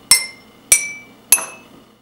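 Knuckles tapped against a fist to play notes: three evenly spaced, bright, ringing taps, each with a clear pitched tone that fades quickly, close and alone.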